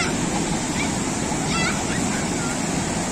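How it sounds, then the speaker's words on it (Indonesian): Ocean waves wash continuously onto a south coast beach at Watu Lawang in Gunungkidul, a loud, dense roar of surf mixed with wind buffeting the microphone, with no clear speech. "apalagi kadang ombaknya langsung besar"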